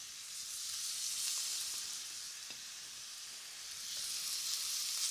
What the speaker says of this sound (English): You're looking for that lovely sizzle.